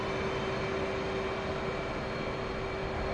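The F/A-18C jet engine in DCS World roars at full throttle as a steady, dense, unbroken rush, with a constant high whine running beneath it.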